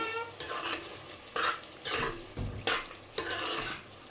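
Raw prawns mixed with salt and turmeric in a bowl, with a series of about seven short, wet squelching strokes at a moderate, uneven rhythm, close by.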